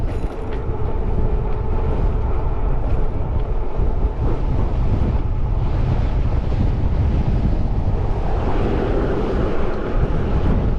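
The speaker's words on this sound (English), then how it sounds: "it's going to be windy coming off the canyon today" Strong wind off the Snake River Canyon roars and buffets the microphone steadily, a dense rumbling rush with no voices.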